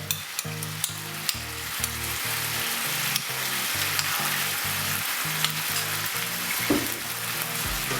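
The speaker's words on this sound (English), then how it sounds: "Let the sauce cook for about 1 minute." Sichuan prawn stir-fry sauce sizzles steadily in a hot pan, a loud continuous hiss with occasional pops and scrapes of stirring, alone without talk.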